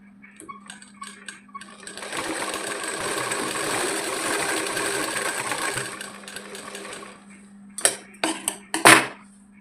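Sewing machine stitching a child's petticoat top runs in a steady, close whir for about four seconds, then stops, followed by a few sharp handling clatters at the end.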